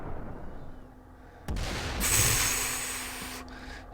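An 8 megajoule US Navy railgun, a Dahlgren prototype for a warship weapon, fires a 7.1-pound projectile: a sudden loud crack followed by a sustained, roaring blast that slowly fades.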